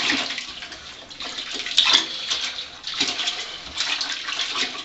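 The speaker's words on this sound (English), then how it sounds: "pulling it and stretching it to try and get as much of that soapy, oily water worked into it as possible" A deerskin hide is squeezed and stretched in a tub of soapy, oily water, producing continuous sloshing and splashing with swells of heavier movement, close and steady.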